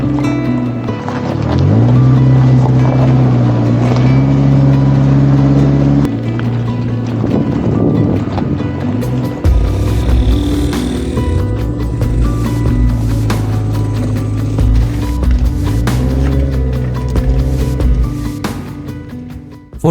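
A 4x4 vehicle grinds up a steep, rocky off-road mountain track near Deosai National Park, its engine droning loudly and shifting in pitch as it labors, with wind buffeting and clattering stones throughout.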